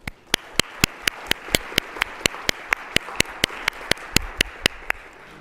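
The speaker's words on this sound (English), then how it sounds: "So let's give them all a round of applause." Sharp, regular claps about four per second, evenly spaced and loud against a soft background hum, from an audience at a Columbus forum event on AI as the room gives its helpers a round of applause.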